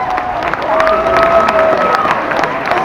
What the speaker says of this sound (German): das ist euer Applaus!